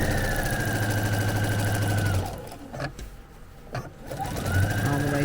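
A sewing machine stitches over a fabric tape stem in a steady, close mechanical whir. It stops for about two seconds with a couple of faint clicks, then starts up again.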